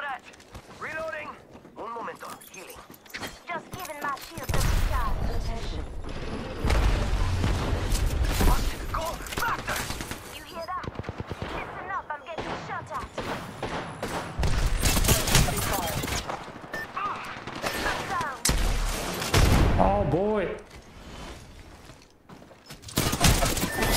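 Bursts of automatic gunfire and heavy weapon blasts from an Apex Legends firefight, loud and clustered in repeated volleys with mechanical clicks between, while a voice talks intermittently.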